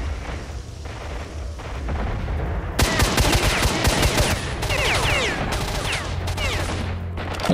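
Heavy gunfire in STALKER: Shadow of Chernobyl, a dense fight against many enemies at once, with rapid overlapping shots and booms that start quiet and then burst loud and continuous from the midpoint onward.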